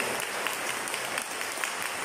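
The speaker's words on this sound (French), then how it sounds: "Vous pouvez l'applaudir, hein, encore une fois" Steady applause from an audience inside a church, a dense even wash of many hands clapping at moderate level for the whole stretch, with no voices standing out.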